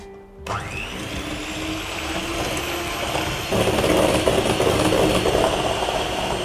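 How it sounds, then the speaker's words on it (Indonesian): An electric mixer whips eggs with vanilla and salt for a mango dessert, switching on abruptly with a rising whine and settling into a loud, steady mechanical whirr that grows slightly heavier partway through. "Ini akan gue kocok sampai dia itu setengah ngembang."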